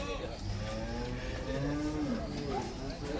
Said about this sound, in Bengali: এটা সুন্দর সুন্দর গরু আছে